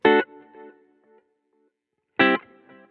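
Guitar through an Empress Echosystem set to a warm tape-style delay: two short picked bursts, each followed by a few quieter repeats that fade out, with silence in between.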